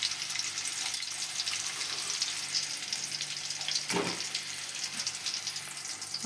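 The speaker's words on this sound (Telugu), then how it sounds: "2 టీ స్పూన్స్ ఆయిల్ వేసుకొని జీలకర్ర, ఆవాలు, నార్మల్గా కరివేపాకు ఇవన్నీ పోపు దినుసులన్నీ వేసేసుకోవాలి." Cumin, mustard seeds and curry leaves fry in two teaspoons of oil for a tempering, making a faint steady hiss and crackle. A brief clatter sounds midway, and no one speaks.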